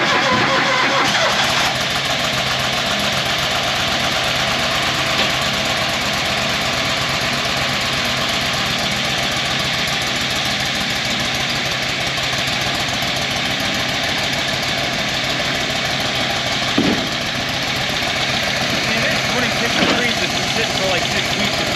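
An old vehicle engine turns over and settles into a steady, loud idle that runs continuously, with a couple of brief knocks or clunks near the end.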